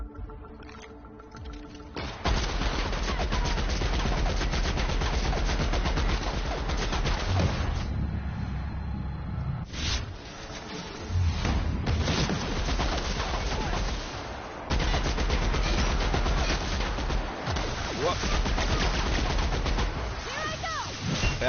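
Gunfire in the video game The Outer Worlds, with dense, rapid shots and heavy blasts that run almost nonstop. The firing is loud and close and drops away briefly a few times.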